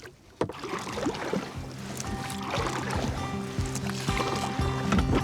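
Kayak paddle strokes splash and drip on the Murray River in PEI, close and fairly quiet, with soft water movement and a faint hum underneath and no talking.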